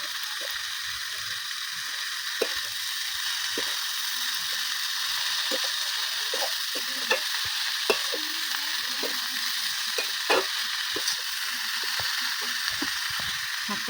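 Sheti shak greens fry in a pan with a steady hiss of sizzling oil. Sharp scraping clicks come irregularly as the greens are stirred, and no one speaks.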